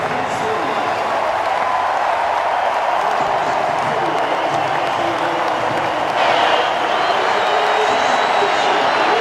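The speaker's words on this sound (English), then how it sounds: "They receive the adulation of the crowd" A big stadium crowd roars and cheers steadily with scattered applause after a football match between Wellington Phoenix and Newcastle Jets, the broad wash of noise holding loud throughout, lifting slightly near the end, while a commentator talks over it.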